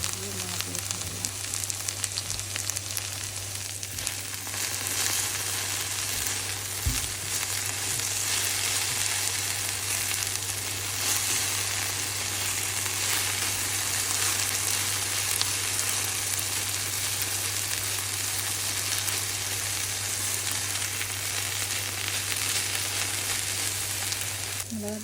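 Sliced okra sizzles and crackles steadily in a hot pan as chili powder is tossed in and stirred, a dense, even frying hiss close to the microphone, with a low hum beneath and brief soft scraping.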